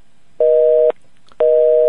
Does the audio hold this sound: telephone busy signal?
yes